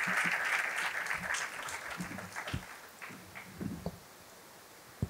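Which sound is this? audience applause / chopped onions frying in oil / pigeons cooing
audience applause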